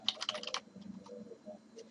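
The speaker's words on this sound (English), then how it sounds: "As soon as this pops up, you can immediately start typing it in." Computer keyboard typing while filling out a real-estate listing input worksheet in Paragon and Instanet software: a quick, close burst of clicking keystrokes in the first half, then softer scattered taps.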